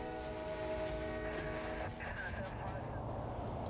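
Freight train on the Palmetto Subdivision near the Alafaya River, a steady, close rumble of rolling cars with sustained horn-like tones, continuous and loud throughout.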